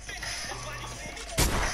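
A single loud gunshot bursts out near the end of a short stretch of game noise from a desert zone wars match, preceded by faint clicks and a low hum.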